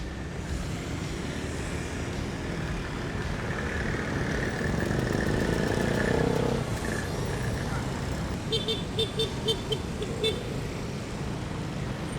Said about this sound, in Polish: Zobaczcie, ile tutaj jest e, skuterów i w ogóle jaki jest e, ruch na ulicach Dżakarty.